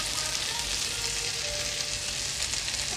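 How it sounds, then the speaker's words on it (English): Sausages sear in a hot pan with bay leaves and rosemary, giving a dense, steady sizzle and crackle that fills the few seconds close up, with no talking. "We're not gonna flip over the sausage, we're gonna sear them on one side"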